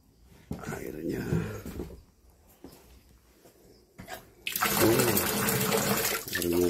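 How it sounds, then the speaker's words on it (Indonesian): Water running from a tap in a toilet along a hiking trail, splashing in bursts under a person's talk, then gushing loudly and steadily near the end. "airnya keluar"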